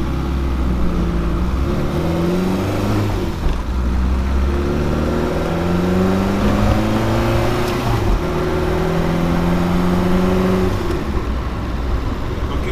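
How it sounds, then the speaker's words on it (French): A Renault 5 Alpine Turbo rally car, a front-engined Group F build with a period body kit, drives a loop through Paris streets. The engine drones steadily and loudly, its pitch rising and falling through repeated revs and gear changes. "Petite boucle en voiture de rallye dans Paris."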